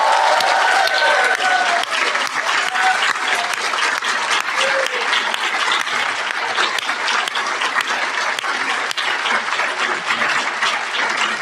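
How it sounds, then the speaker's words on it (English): A large audience at the University of Missouri claps loudly for a newly announced Nobel Prize in Chemistry winner, a thick, sustained roar of applause lasting over ten seconds with a few faint crowd murmurs. "We're going to clap."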